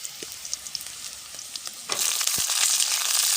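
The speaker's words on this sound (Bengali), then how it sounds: "ভালো করে কষাতে হবে তো" Malabar spinach stems being sautéed with a little potato on a clay stove in a village kitchen give a steady, close sizzle and frying hiss that grows louder and denser partway through, with a few stirring clicks.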